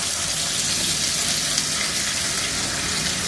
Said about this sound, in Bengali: এর মধ্যে এই কিমাগুলাকে আমি ভেজে নিব।